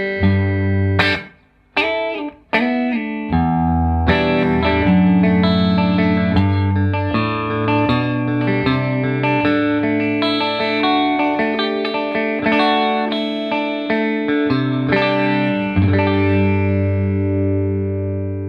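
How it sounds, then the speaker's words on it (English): An electric guitar with Alnico 5 neck and bridge pickups selected together plays loud, open, woody-toned chords and single notes, opening with sharp choppy strums and stops before settling into sustained ringing phrases, with no talking. "When you combine both together, you get this really nice kind of open woody tone"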